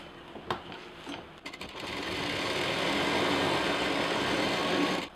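Starting with a few clicks and short bursts, a sewing machine then runs in a steady, continuous whir as it stitches plain fabric for a hanging organiser, heard up close with no one talking.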